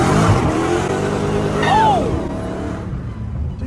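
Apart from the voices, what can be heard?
Chrysler car engine revving while accelerating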